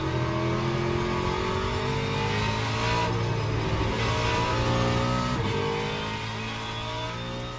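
A race car engine in the Le Mans Ultimate sim racing game drones steadily at high revs with layered harmonic whine, shifting pitch a few times before easing slightly toward the end, with no talking.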